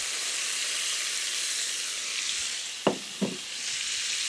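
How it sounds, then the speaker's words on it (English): Diced red pepper and onions sautéing in a pan for chicken kabsa, a steady close sizzle with two brief knocks of a utensil near the end. "we'll just saute that off a little bit"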